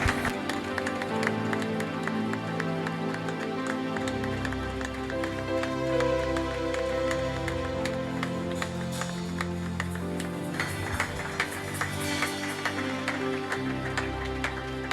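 A church congregation applauds at an evening service, dense sustained clapping lasting throughout, mixed with loud music and a low hum from the hall.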